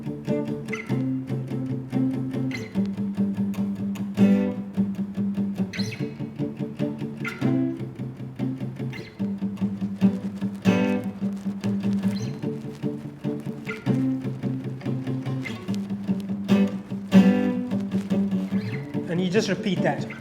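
Palm-muted acoustic guitar strumming of a song in a repeating rhythmic pattern, thumpy and damped with short choppy strokes, played close and steady.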